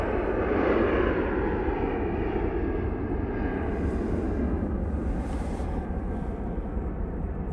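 At Manchester Airport, a jet aircraft goes around, its engines producing a loud, continuous roar that stays strong throughout and eases slightly near the end.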